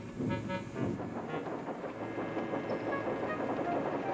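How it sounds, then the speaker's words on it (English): A steam engine shunts coaches in a cartoon railway scene, a close, continuous rumbling of wheels and rolling stock with rhythmic clanking and a faint whistle-like tone, no speech. "Thomas was shunting shining new coaches."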